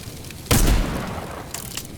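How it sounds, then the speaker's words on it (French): Loud explosion or gunshot burst in a video game, a sharp boom followed by a decaying rumble, with a few fainter pops trailing after. "Mais pourquoi j'entends des tirs?"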